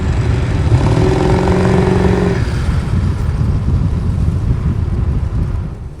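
Diesel exhaust and drivetrain rumble from a 2002 Ford F-250 Super Duty Lariat with the 7.3 Powerstroke while driving, a steady loud low drone with wind noise and no talking.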